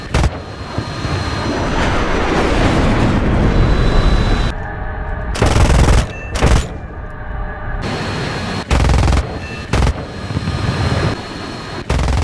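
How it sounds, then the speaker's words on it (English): Bursts of 20mm cannon fire in a War Thunder jet dogfight against a MiG-17, loud rapid booming rounds in several separate bursts broken by short gaps, with continuous engine roar between them. "He lets loose a burst of 20mm cannon fire."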